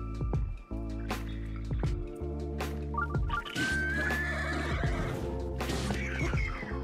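A horse whinnies in Zelda: Breath of the Wild, set against steady game music and ambience, with a few short thuds and clops of hooves scattered through the scene.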